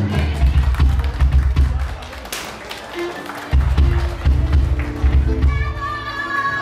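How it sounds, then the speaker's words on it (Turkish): Wedding guests clapping for the bride and groom at a Turkish wedding ceremony, loud crowd applause and cheering over a thumping orchestra beat, with a short dip before the music and clapping surge back. "alkışlar gelsin damatla geline"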